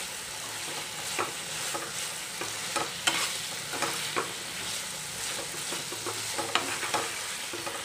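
Chicken tikka filling for samosas dry-fries in a pan, a steady close sizzle broken by regular scraping and tapping spatula strokes, with no one speaking.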